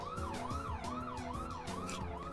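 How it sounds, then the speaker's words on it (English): A wailing police siren sweeps up and down in steady cycles, loud and close, over a low engine rumble from a vehicle in pursuit, with no talking. "Police siren SFX."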